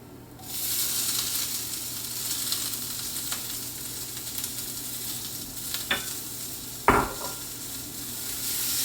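Previously sautéed asparagus tipped into a pan of nearly cooked vegetables, giving a steady sizzle and frying hiss with a few sharp clinks of the utensil against the pan as it is stirred, close and clear with no talk.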